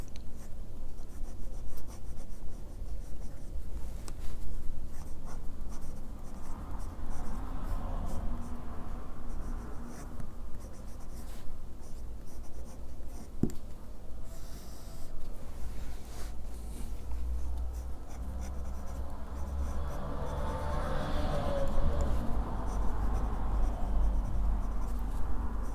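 Jinhao 9056 fountain pen nib scratching across paper, a soft continuous rustle of writing strokes with small pauses, close and quiet throughout.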